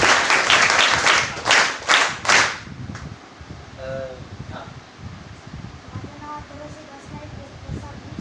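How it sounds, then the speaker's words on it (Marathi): An audience at a Sainik School motivational talk claps in loud, rhythmic bursts for a few seconds, then it fades and a voice speaks over quiet room noise. "छान, एकदा जोरदार टाळ्या."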